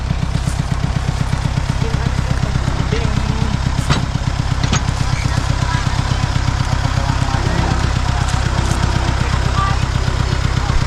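A small engine chugs steadily at idle, loud and close, its rapid pulsing beat unbroken, with faint voices buried underneath.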